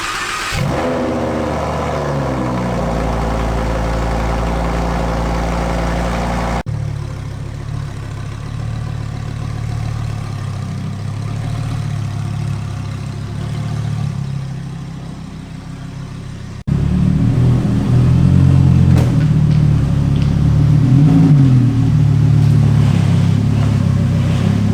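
A Lamborghini Huracan STO engine in a garage, with the rear bumper removed for a titanium exhaust install. It starts with a loud flare that settles, then idles through several cuts before a louder, rougher burst of revving.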